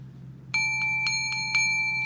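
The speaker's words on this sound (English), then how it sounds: "Let me go ahead and ring my bell" A hand bell is rung several times in quick succession, each bright metallic strike blending into a sustained clear ringing tone over a faint low hum.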